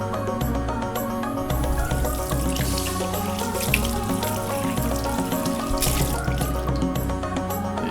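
Tap water runs steadily over squid in a sink as its insides are rinsed clean, a constant close splashing wash that lasts throughout with no talk.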